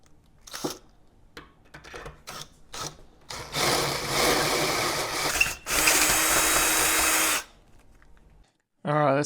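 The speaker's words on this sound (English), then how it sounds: "Drill this out to 1/2 inch and see how much material we have around here" A power drill bores out a brake pushrod eyelet to 1/2 inch for a Dodge Dakota manual brake conversion, two loud sustained bursts of grinding whir close up, preceded by short knocks and handling noises.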